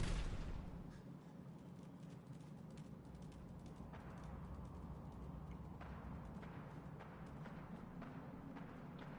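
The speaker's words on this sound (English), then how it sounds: "A lot of gunshots over here." Gunfire in the video game Fallout 4: a dense, continuous rumble of shots and booms, with sharper reports breaking through at intervals, heard alone without talk.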